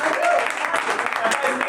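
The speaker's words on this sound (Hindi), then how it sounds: "बजाओ ताली बजाओ" Audience applause at a Hindi comedy poetry show, a dense wash of clapping that carries steadily through the whole moment, loud and close.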